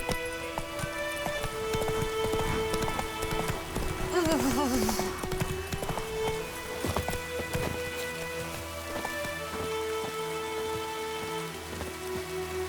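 Hooves of a horse galloping in The Witcher 3 pound steadily through rain, with a thunder-like rumble and ambient game sounds; someone speaks briefly over the rhythmic clip-clop.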